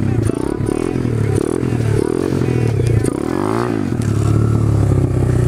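A motorcycle engine revs and drops again and again during low-speed wheelie practice from a standstill, loud and close, with clattering and scraping mixed in.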